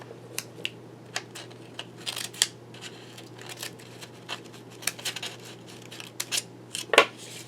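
Scissors snip through paper close up in quick, uneven bursts while a Valentine card is cut out, with light rustling and handling noises between the cuts.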